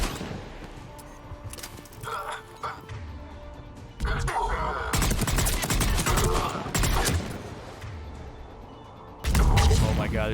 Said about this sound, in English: We have to get up there and activate those AA guns manually.